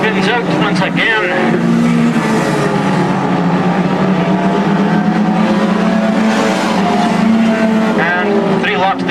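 Stock cars race around the Crimond track in 2002, engines droning and revving loudly in a continuous roar, with a commentator talking over the racing throughout.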